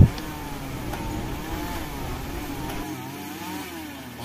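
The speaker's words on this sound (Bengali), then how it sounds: "দেখুন এই যে ঠেলতেছে, ও বেকু উঠে যাচ্ছে উপরের দিকে" Heavy excavator engine labouring as the machine pushes and climbs uphill through a Malaysian palm oil plantation during tree clearing, a steady loud mid-pitched drone with slight rises and falls throughout, no talk.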